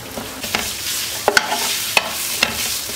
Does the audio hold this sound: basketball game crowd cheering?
no